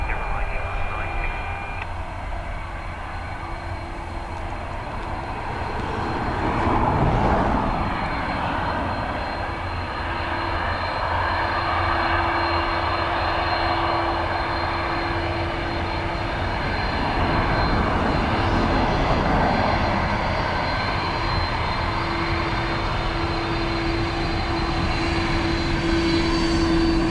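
A fixed-wing airliner on the runway at Dublin Airport, its engines producing a loud, steady roar that swells and holds for nearly half a minute, with faint radio chatter in the background.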